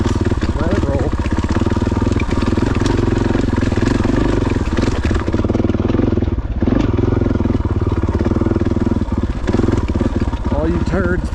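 A KTM 500 motorcycle rolls along a mountain trail near Crested Butte in second gear, its engine a steady loud close drone with a rapid pulsing beat throughout, no audible talk.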